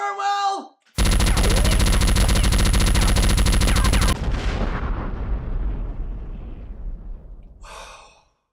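Dense, continuous gunfire and booming artillery from the video game Top Gun: Combat Zones blast for about three seconds, then fade into a long decaying rumble, with short voiced sounds just before and at the end.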